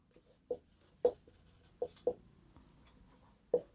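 Pen scratching on paper in short bursts as construction steps for a class 9 geometry problem are written by hand, with several sharp strokes close and distinct against a quiet background.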